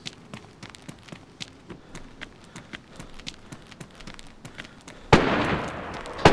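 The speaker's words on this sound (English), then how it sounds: "Oh, gunshot." Gunfire in the DayZ video game: a series of sharp, light pops and footstep-like clicks, then one loud, close blast with a long rumbling tail near the end.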